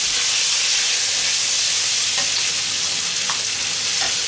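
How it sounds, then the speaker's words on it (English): Beef stir-frying in a very hot pan for black bean sauce, with a loud, continuous bright sizzle and a few sharp scrapes of stirring, close and without talk. "The stir fry technique relies on the pan being exceedingly hot."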